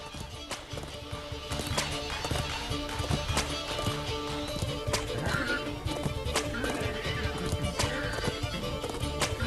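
A war horse being tamed in the game Oblivion neighs and whinnies while its hooves clip-clop and pound in quick, uneven rhythm, close and loud throughout, with brief exclamations from a person.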